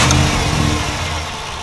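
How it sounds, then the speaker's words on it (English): A car engine running steadily at low revs, a close rumbling hum that slowly settles, with no voices. "let's start the engine."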